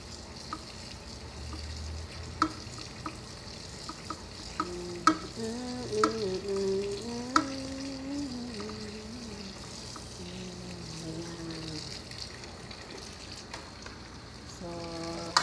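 Okra is sautéed in a pan, with a steady low sizzle and occasional spatula scrapes and taps, plus a brief tonal whine midway, close and moderately quiet.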